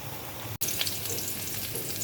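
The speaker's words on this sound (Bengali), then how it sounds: "এই রসুন দিই তেলত, অল্প পেঁয়াজ দিই" Garlic and onion fry in hot oil, giving a close, steady crackling sizzle that drops out for a split second and then continues.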